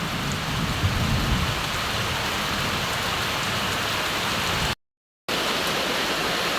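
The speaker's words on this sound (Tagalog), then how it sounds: "malakas na naman po ang ulan" Heavy rain pours steadily in a dense, hissing roar with a low rumble of thunder underneath, briefly cutting to silence before resuming.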